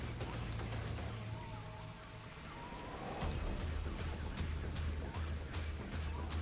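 A torrential downpour hisses steadily, with dense patter and drip clicks throughout and faint bird calls in the background.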